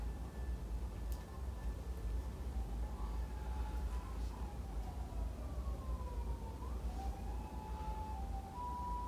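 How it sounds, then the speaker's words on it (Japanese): An ambulance siren wails in the distance, its pitch sliding up and down over a constant low rumble of traffic. "最近めっちゃさ、救急車多いよな"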